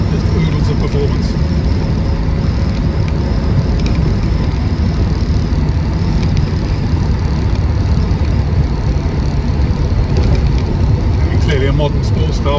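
A 1974 MG B GT V8 sports car drives along with a steady, loud engine drone and road rumble throughout, heard from inside the car with someone talking over it.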